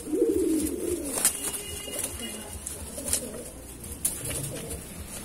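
A pair of white Madrasi pigeons coo close by in soft, low bursts, with faint background rustling and a few sharp clicks.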